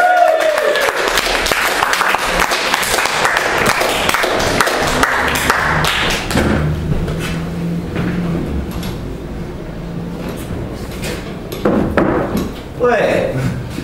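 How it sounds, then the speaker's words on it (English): Comedy club audience at The Hob applauds and cheers as a comedian is introduced, a loud, dense burst of clapping for about six seconds that thins into scattered claps and crowd murmur. "please put your hands together for Mr. Daryl Golden!"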